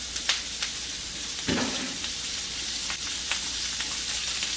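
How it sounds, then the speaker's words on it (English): Chopped smoked rib bacon browns in a skillet with a continuous close sizzle, broken by a few sharp crackles and one thud of stirring, and no talking. "I'm going to brown these a little bit"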